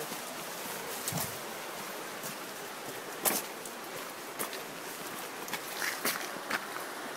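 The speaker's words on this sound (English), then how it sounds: "Raindrops keep falling on my head." Rain falls steadily outdoors in New Zealand, a soft continuous patter with occasional louder drops and brief nearby knocks, heard alone without talk.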